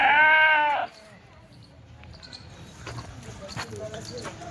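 Kathiawadi goats bleat once, loud and close, in a single wavering call before the sound drops to faint farmyard background with soft rustles and distant activity.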